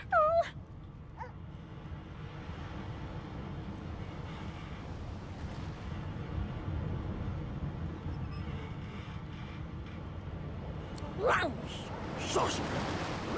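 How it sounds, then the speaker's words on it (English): A dog in the video game Divinity Original Sin 2 gives a few high whines at the start and again near the end, over a steady windy background. "The dog whines and continues pawing at its nose."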